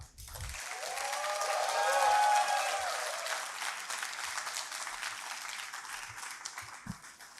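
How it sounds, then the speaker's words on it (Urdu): An audience at an Urdu literature conference in an arts council hall applauds a young reader. The dense clapping swells, peaks and slowly fades over several seconds, with a few faint knocks near the end. "میں یہاں ملتمس ہوں آپ سب اس نوجوان کے لیے تالیاں بجائیں گے"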